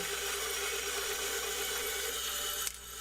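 A steady, continuous hand saw cutting through material, loud and close, stopping abruptly near the end, while restoring an old axe.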